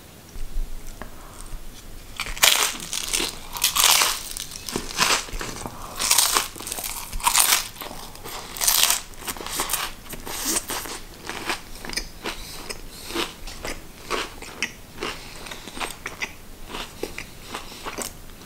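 A cracker topped with pickled mussel salad is bitten and chewed in close-up, giving repeated loud, crisp crunches and crackles over roughly fifteen seconds, with no talking.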